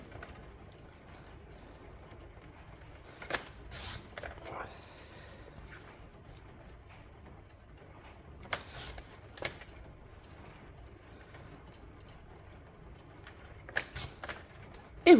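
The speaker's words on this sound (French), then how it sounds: "soit vous prenez un cutter, soit le massicot, peu importe avec ce que vous avez du coup à la maison" A paper trimmer (massicot) slices through paper during a scrapbooking craft, giving a few brief, sharp mechanical clicks and sliding snaps spaced apart over a quiet room background.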